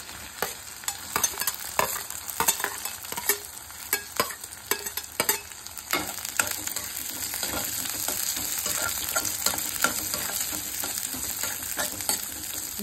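Onions go into a pan with crushed ginger and green chillies and fry with a continuous close sizzle, punctuated by stirring clatters early on before settling into a steady hiss.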